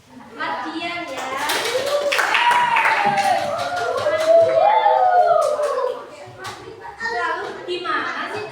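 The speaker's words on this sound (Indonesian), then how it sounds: "Kita beri aplaus untuk Mas Mardian ya" A classroom audience claps for a student, a sustained round of hand clapping lasting most of the clip, with children's voices and chatter mixed in and the clapping fading out near the end.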